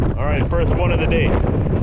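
Steady wind buffets the microphone outdoors on a windy point during a bass and walleye fishing trip, a constant low rumble while someone talks over it.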